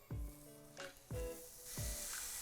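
A salted and peppered blackened fish filet laid on a hot griddle (plancha) sizzles with three sharp, close bursts of hiss and crackle that settle into steady frying noise.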